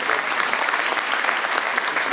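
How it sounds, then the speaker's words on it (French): Dense audience applause at a business forum fills the hall, steady and loud from start to finish with no pauses. "Vous pouvez vous applaudir, merci beaucoup de votre fidélité."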